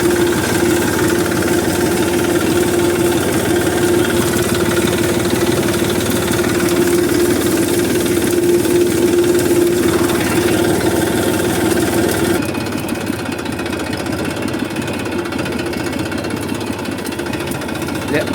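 A tractor engine runs loud and close for the whole stretch, a steady knocking chug that drops slightly in tone near the end.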